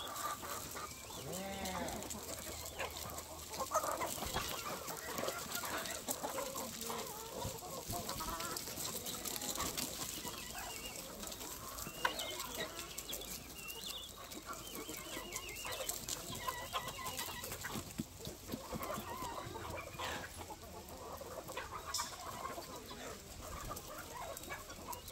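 Free-range chickens on a homestead with hundreds of birds cluck and call continuously in a busy, dense outdoor chorus with other farm animals mixed in, steady and moderately loud throughout.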